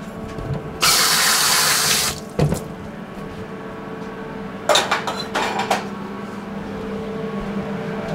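Brewing equipment is rinsed under running water at a sink, with a loud burst of tap flow for about a second, then clattering thuds and short splashing rinses against a quiet background.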